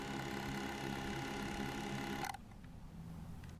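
A steady high-pitched mechanical whine of a DJI Mavic 2 Pro drone's motors spinning up with swapped propellers, sustained and buzzing, then cutting out abruptly to quieter background hum.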